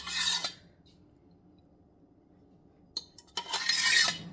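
Curd and steamed banana stem are mixed in a metal vessel, giving short bursts of scraping and rasping at the start and end with a quiet gap between them, close up and with no talking.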